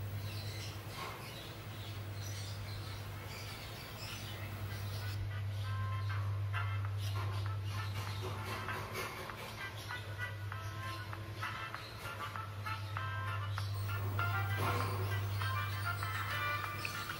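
A song plays through a Bluetooth speaker driven by a TPA3118 amplifier board, turned down low, sounding thin and somewhat distant against a steady electrical hum.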